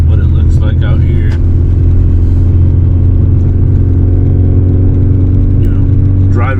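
Subaru car engine droning steadily from inside the cabin while driving on snowy streets, a loud constant low rumble throughout, with someone talking over it.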